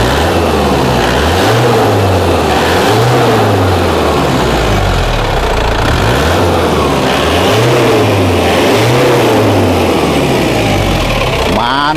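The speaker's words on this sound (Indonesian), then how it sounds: "kita coba kita gas-gas untuk kondisi mesinnya ya" An Opel Blazer fitted with a Panther diesel turbo engine is revved repeatedly in a regular rising-and-falling pattern, loud and close, its low diesel rumble swelling with each blip of the throttle.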